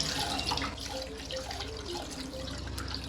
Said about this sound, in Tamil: முதல்ல அரிசியை கழுவி தண்ணி போட்டு தண்ணி வச்சு ஊற வச்சிடுவேன்.